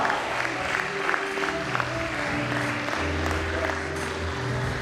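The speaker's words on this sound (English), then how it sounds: "Please, a round of applause for her." Sustained applause from a crowd at an academic lecture event, a dense, even patter of clapping held throughout with a low murmur underneath.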